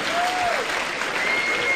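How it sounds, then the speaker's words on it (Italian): A crowd claps continuously, a dense wash of applause at an event in Porretta, with a faint whistle or tone briefly audible over it. "volevo fare un grande applauso a Ross"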